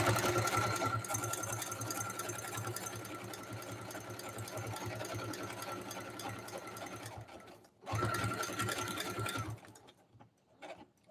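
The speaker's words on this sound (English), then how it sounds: "Now, I'm not going to take the fabric out of my machine. I'm going to just turn it and keep sewing." A sewing machine stitches fabric scraps for a notebook cover, a steady close whirring hum that runs for several seconds, stops briefly, then resumes in a short burst before trailing off.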